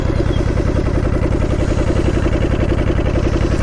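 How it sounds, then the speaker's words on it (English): A Honda Shadow 750 Aero V-twin idles at about 1100 RPM, close and loud, with a steady, even rumbling throb and no voices over it. "now you know your bike needs to idle about 1100 RPM"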